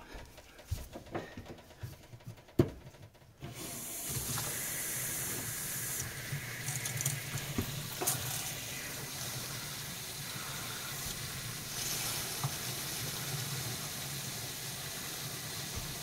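After a few handling knocks, pressurised water from a washing machine hose rushes into a clogged kitchen sink drain, settling into a steady, loud hiss and gush that continues without pause.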